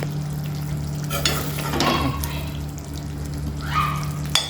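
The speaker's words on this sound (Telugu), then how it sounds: "సిమ్లో పెట్టుకొని మంచిగా ఫ్రై చేసుకుంటే ఇట్లా వాటర్ వచ్చి గ్రేవీ వస్తుంది" Chicken fries on a low flame without added water, releasing its own juices, in a steady close sizzle with scraping stirs and a low hum in the background, with no talking.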